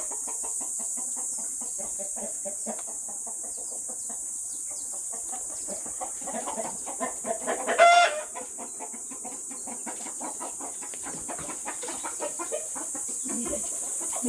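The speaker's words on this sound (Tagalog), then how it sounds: "Meron silang mga alagang manok." Backyard chickens clucking on a farm lot, soft scattered clucks under a steady high hiss, with one louder call about midway.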